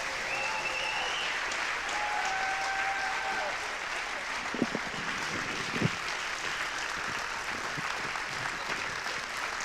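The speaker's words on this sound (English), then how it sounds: "Another round of applause." Sustained applause from an audience at an art education center after a live talk, a dense continuous roar of clapping with a faint tonal whine early on and a couple of sharper claps or knocks midway.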